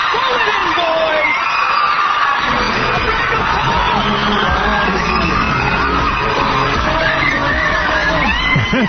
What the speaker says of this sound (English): Screaming and yelling.